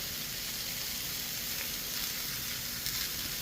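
Thick burgers, bigger than a quarter pounder, sizzle steadily on a Blackstone griddle, a close, even, hissing fry with no voices.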